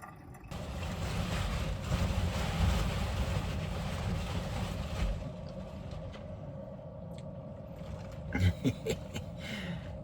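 Strong winter wind buffets a truck camper during a weather advisory, a steady loud roar with gusts that eases slightly midway, plus a few brief knocks near the end.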